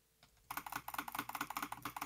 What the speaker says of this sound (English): You can hear him furiously clicking.